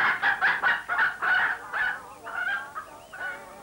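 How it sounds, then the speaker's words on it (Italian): A hen clucks up close in a farmyard, giving a quick series of nasal, honking calls that start fast and regular and then slow into looser, wavering clucks, with no one speaking. "Guarda, guarda che bella gallina."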